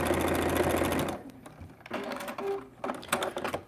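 A sewing machine stitches fabric in a fast, dense run for about a second, then stops and gives a few softer mechanical clicks and whirs, close and clear.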